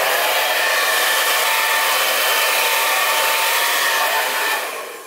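A hair dryer blows steadily and loudly up close while drying hair, a continuous whooshing hiss that fades slightly at the end.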